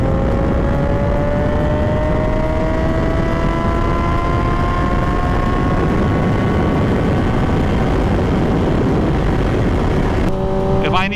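Kawasaki 636 sport motorcycle pulling hard in third gear, a loud, steady rising engine whine with climbing harmonics held for most of the run, then a sudden pitch change near the end; no talk over it.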